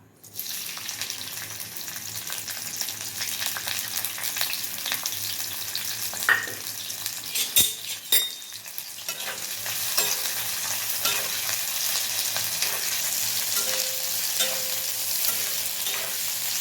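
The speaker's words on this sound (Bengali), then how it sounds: "এবার গরম সর্ষের তেলের ভেতরে পেঁয়াজ দিয়ে দেবো।" Sliced onions tip into hot mustard oil in a pan and start a loud, steady sizzle close by, with scraping stirs now and then, the frying hiss building and then holding strong for over fifteen seconds.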